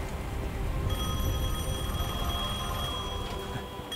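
A telephone rings inside the Devil May Cry 5 video game, a steady electronic ring tone held over a dense, rumbling game soundscape for most of the stretch.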